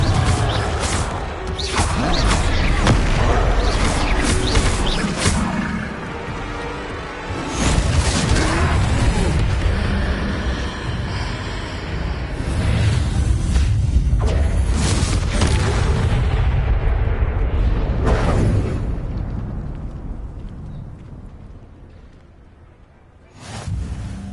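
Confringo spell blasts erupting in a video game during a troll fight, a dense run of booming explosions and crashing impacts that stays loud and continuous, with a brief lull near the end before another burst.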